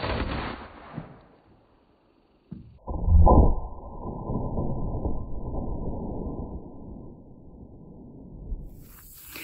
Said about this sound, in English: let's shoot the melon and see what it does to the melon